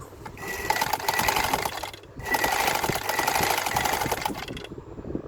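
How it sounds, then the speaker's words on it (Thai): A repaired Janome zigzag sewing machine runs close by in two steady bursts of loud, fast whirring and clattering, separated by a brief pause. "เย็บตรงได้แซกได้นะครับ"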